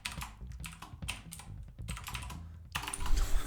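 Quick irregular tapping on a computer keyboard, close and moderately loud, bursts of keystrokes with short pauses, no talking.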